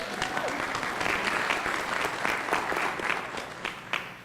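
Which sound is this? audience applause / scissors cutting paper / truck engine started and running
audience applause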